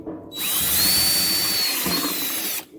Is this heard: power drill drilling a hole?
yes